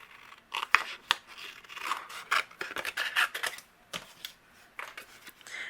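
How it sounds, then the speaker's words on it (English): A sand eraser rubs glue residue off paper on a stamped card, giving a run of short, scratchy strokes in an uneven rhythm, close and fairly quiet with no talking. "I'm going to use my sand eraser and remove it"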